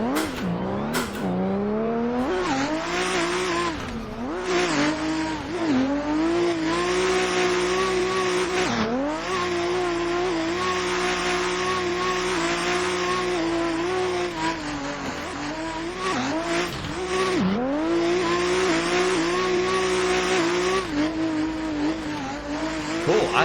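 A BMW E30 drift car runs at high revs, its engine droning hard with repeated dips and surges as the throttle is worked. Loud tire squeal runs alongside for the whole stretch, with no talking.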